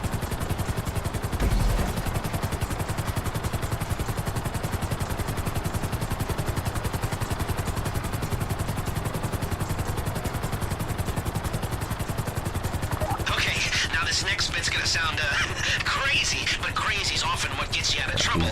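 A helicopter flies low over trees in a video game, its rotor chopping and engine droning steadily and loudly throughout. A harsher, brighter rattle joins near the end.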